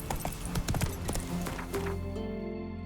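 Roach, a horse in a video game, trots or gallops with quick rhythmic hoof clip-clops and a brief whinny, and a voice speaks over the hoofbeats.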